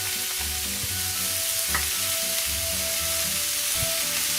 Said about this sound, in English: So I'm gonna add the vegetable here to the pot.